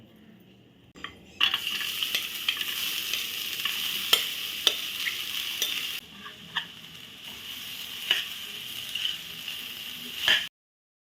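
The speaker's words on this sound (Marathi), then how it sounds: "आपण हे खोबरं गूळ आणि आळीव मिक्स करून ठेवलं होतं ना ते आपण आता ह्या तुपावर घालूया" Grated coconut, jaggery and garden cress seeds tipped into hot ghee for winter aliv laddoos, then sizzling steadily while a spoon scrapes and stirs the pan with sharp clicks and knocks, stopping abruptly at the end.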